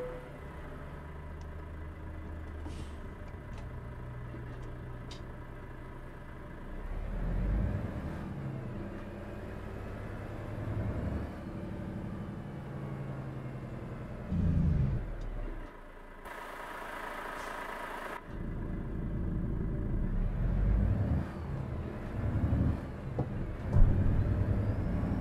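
A truck engine drones steadily while driving in Euro Truck Simulator 2, a low rumbling hum that swells and shifts with throttle, with brief louder bursts and no talk over it.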